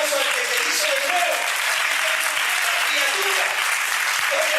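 A congregation at a Spanish-language church service bursts into sustained, dense applause, a steady loud wash of many hands clapping with a few voices calling out beneath it.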